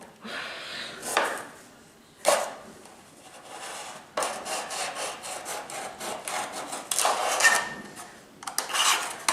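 A knife cuts along a marked line during work with founding hornet queens, giving rough, sawing strokes in short bursts, then a longer run of scraping passes, close and fairly loud with no talk.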